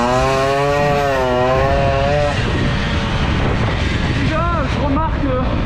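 A Peugeot 103 moped fitted with an Airsal 65 kit runs on a cold engine, its high buzzing two-stroke note rising and falling loudly up close, with someone speaking over it.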